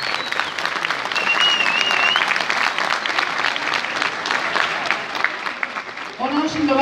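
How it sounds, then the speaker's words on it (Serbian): A concert audience gives sustained, dense applause for visiting folk dance ensembles from Šipovo, Zvečan and Mokra Gora at a folklore ensemble show, steady throughout, before a voice begins speaking at the very end. "Ja vas molim za jedan veliki aplauz za goste iz Šipova, Zvečana i Mokre Gore."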